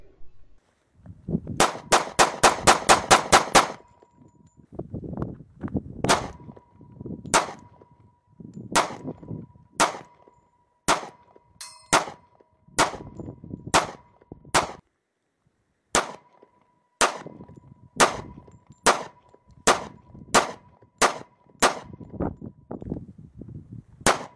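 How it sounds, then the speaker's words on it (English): A 1911 pistol fires live rounds of several different types: a rapid string of sharp, loud shots comes first, followed by evenly spaced single shots, each with a brief metallic ring. "Now we're going to do some live fire with some different rounds."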